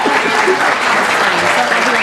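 Dense, continuous clapping from a debate audience welcoming mayoral candidates at a 2017 Pleasant Grove debate, loud and unbroken across the short stretch, with faint voices mixed in.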